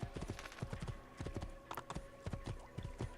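Horse hooves clip-clopping steadily in Assassin's Creed 2, a quick even rhythm of close, crisp hoofbeats with a brief whinny-like sound partway through, no talk over them.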